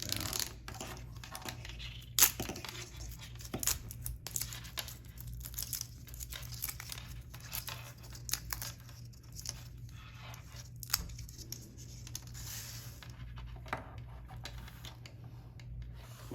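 Old plastic wire loom casing being pulled off and stripped from a wiring harness, scattered crinkling, snapping and tearing sounds, close and quiet, with intermittent sharp clicks.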